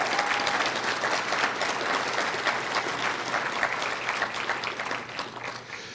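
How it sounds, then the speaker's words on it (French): An audience at a political rally, the NDP General Council in Trois-Rivières, applauds with dense, steady clapping that fills the whole stretch and eases slightly toward the end. "oui, vous pouvez applaudir parce qu'on va mettre fin à ça"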